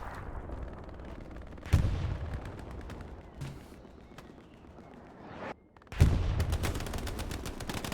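Gunfire and tank explosions in a team video game match: scattered sharp shots, with two heavy booming blasts standing out above a steady rumble of battle.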